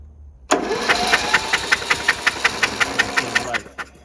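A Murray lawn mower engine cranks over repeatedly, a steady train of rhythmic pulses about four per second that starts abruptly, runs loud and close for three seconds, then stops.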